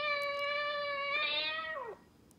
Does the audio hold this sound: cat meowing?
yes